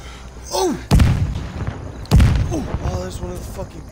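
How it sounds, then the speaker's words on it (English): Cannon fire in the Call of Duty: Vanguard video game, two heavy booming blasts about a second apart, close and loud, with a voice shouting between and after them. "Oh, that's one of the fucking cannons."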